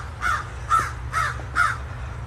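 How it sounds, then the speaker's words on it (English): Crows cawing from a tree outdoors, four loud, evenly spaced harsh caws over a low steady background rumble. "Those are birds in the tree."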